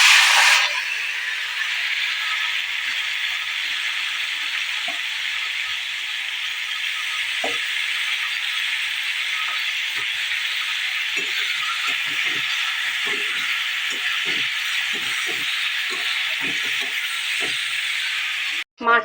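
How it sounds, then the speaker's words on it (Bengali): Salted, turmeric-rubbed prawns for a coconut malai curry fry in hot oil, a loud, steady hiss that runs unbroken for the whole stretch, with faint scattered pops and spits underneath. "চলো এবার ভেজে নিই।"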